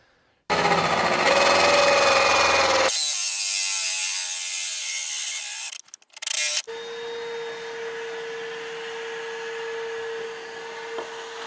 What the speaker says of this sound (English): we'll use a hole saw, drill out the areas where it's hitting